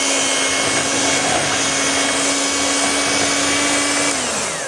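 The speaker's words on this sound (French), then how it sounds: "commence à mixer ma crème." Electric hand mixer whipping homemade face-lightening cream, a loud steady motor whine with a constant hum that runs evenly throughout and slowly winds down at the end, with no voices.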